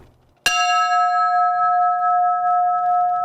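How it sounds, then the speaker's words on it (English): A memorial bell is struck once, sharply and loudly, then rings on with a long, steady sustained tone that slowly fades. "Beginning at 7:46 a.m., this bell was struck to mark the time the first plane hit the North Tower."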